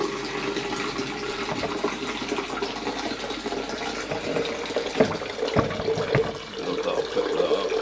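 Steady rush of running water pouring into a container for a home brew, continuous and fairly close, with a few clunks and knocks near the end.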